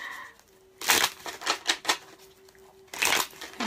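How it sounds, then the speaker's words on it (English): Tarot cards shuffled near the microphone during a live reading, a few quick riffling bursts and crisp slaps separated by short pauses, with a faint steady hum underneath. "can you tell me if you hear my cards shuffling?"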